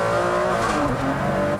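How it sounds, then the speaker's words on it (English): An Enzo Ferrari with its V12 engine driving on a race track, a loud steady engine drone with a rising, shifting pitch, heard close and alone without talk. "But I am finally out on the track in an Enzo Ferrari."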